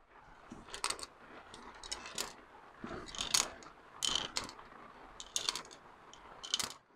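A loose ball rolling and rattling inside a car gearbox being cleaned, heard as repeated bursts of metallic clattering and clicking at close range, with no talk.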